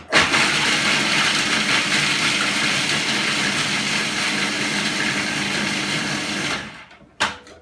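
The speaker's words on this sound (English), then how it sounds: "Grab your 75 grams of pecan nuts and pop them into the food processor" A food processor chops pecan nuts in a steady, loud whirring grind that holds for about six seconds, then winds down and stops, followed by one short final pulse.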